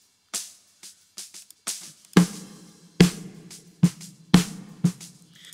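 A bottom-miked snare drum with added drive buzzes with fizzy, bright wire rattle across a busy solo drum pattern, light ghost strokes leading into several harder accented hits with crisp, saturated decays.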